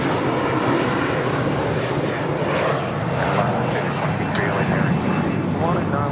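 A British Airways Airbus A350-1000 jet taxis at LAX, making a loud, steady engine roar close by with a voice talking over it.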